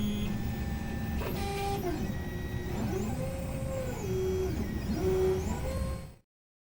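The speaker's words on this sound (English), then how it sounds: "Now the cleaning process is finished and the print will start." A ZEUS 3D printer starting a print produces a steady mechanical hum with rising and falling whining motor tones, close and fairly loud, that stops abruptly near the end.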